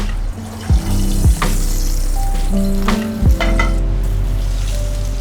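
A coral trout fillet fries skin-side down in a hot pan, sizzling loudly and continuously, with a few sharp clanks of a utensil against the pan.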